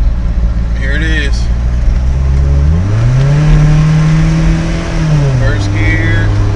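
A Toyota truck engine with a modified transmission runs steadily, its pitch climbing and settling as it shifts through the gears with lockup engaging. The drone is loud and close throughout.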